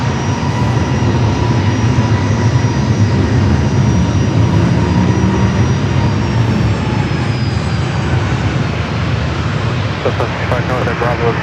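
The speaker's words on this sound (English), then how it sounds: "the flight to Seattle up and next for takeoff" An airliner bound for Seattle takes off at San Diego airport, a loud, sustained jet engine roar with a steady whine that holds throughout at close range.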